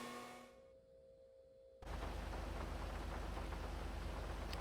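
Rain on a race track in the video game GTA 5. A faint tonal hum fades out, then a loud, dense downpour bursts in suddenly and continues as steady heavy rain noise, with no talking.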